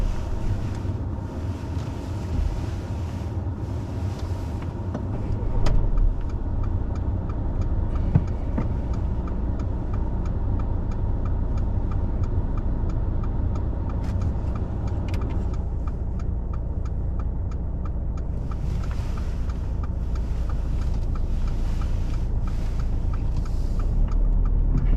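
Car pulling away from the kerb on a mock driving test, a low steady engine rumble with road and wind noise throughout, no voices.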